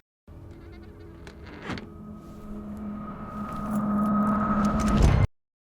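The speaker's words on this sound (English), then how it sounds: "So that anticipation building riser here is made from a couple different impact sounds." A synthetic riser built from reversed, blended impact sounds, swelling steadily louder over about five seconds, tonal hum and buzzing texture building before an abrupt cutoff.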